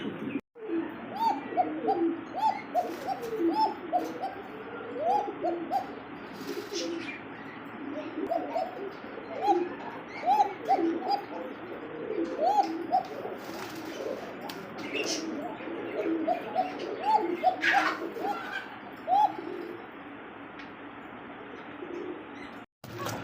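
Rajgolla pigeons in a cage give repeated soft cooing calls throughout, with a few chirps and light rustles against a steady low background.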